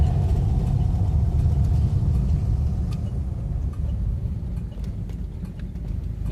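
A Lincoln Continental Mark III running just after a cold start while driving, a steady low engine rumble throughout with light clicks and knocks on top.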